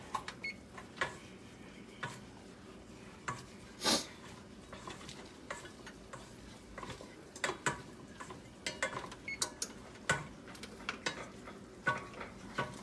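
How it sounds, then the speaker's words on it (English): Spinach is stirred lightly in a pan as it wilts, with a soft sizzle underneath and a scatter of scraping clicks and taps from the utensil against the pan, close by and fairly quiet, with no talking. "you don't need to stir all too much, just a little bit, so we make sure you get the spinach nice and wilted"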